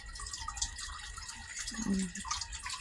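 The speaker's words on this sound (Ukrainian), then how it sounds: "Ну, що воду чути, фонтанчик такий." A small garden fountain in an English garden in January gives a soft, steady trickle of running water, faint and continuous, with a brief low vocal sound partway through.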